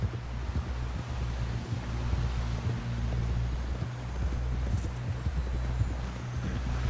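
Horse hooves clip-clop at a steady gallop in Red Dead Redemption 2, a continuous rhythmic beat under a low droning hum and wind-like noise, moderately loud and without voices.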